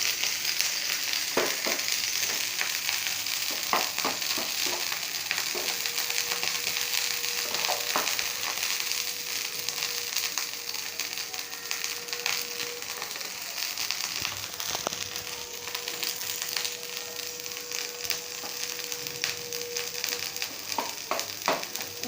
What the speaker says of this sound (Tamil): இப்போ எடுத்து நான் ஊற்றி காட்டுறேன் தோசை